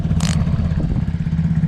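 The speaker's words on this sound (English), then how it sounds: "I just tuned the carburetor a little bit today because she was idling too fast." A Kymco People scooter with a freshly tuned carburetor idles with a steady low, throbbing putter up close, and a brief metallic clatter comes early on.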